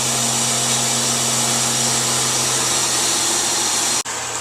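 A farm washing system draws rinse water up through hoses into a pipeline with a loud, steady suction roar and hum that cuts off abruptly near the end.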